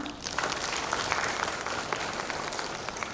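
Applause at an inauguration gathering of the BMIWI board attended by about 80 survivor families, a steady, full patter of crowd clapping that continues without a break throughout.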